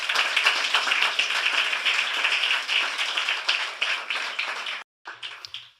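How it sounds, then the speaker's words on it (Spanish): Church congregation applauding during a Sunday service, a full, steady roar of many hands clapping that runs for several seconds before cutting off abruptly, followed by a brief fainter spatter of claps. "ellos le brindan un gran aplauso"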